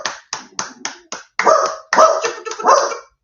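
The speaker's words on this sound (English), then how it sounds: "You don't have to bark." A dog barking at the postman, several sharp barks in a quick rhythmic run followed by a few longer, louder barks, close and alone.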